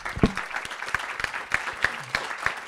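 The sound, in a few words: audience applause at health equity round table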